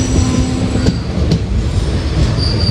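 Train pulling into Avaneeswaram railway station in Kerala during the monsoon season, with a steady loud rumble of rail cars, faint wheel squeal and a couple of sharp metallic clanks, no voices.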